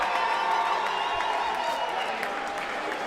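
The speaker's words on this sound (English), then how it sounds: "a round of applause, please, for both of the boxers in this ring." Crowd applause with some cheering at a professional women's boxing fight after the bout is stopped in the 4th round, a dense, steady roar of clapping that holds at the same level for the full stretch.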